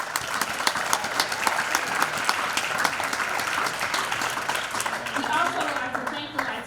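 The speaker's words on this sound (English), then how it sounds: "So let's give them a hand clap." A symposium audience at Malcolm X College applauds the aldermen, a steady wash of many hands clapping at moderate distance, with some voices mixed in toward the end.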